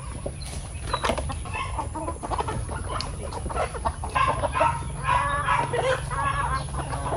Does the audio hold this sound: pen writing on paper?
no